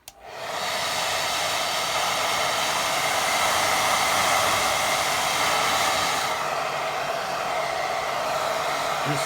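A hair dryer blows steadily on a watercolour painting, a constant close rushing roar of air lasting about nine seconds with no talking.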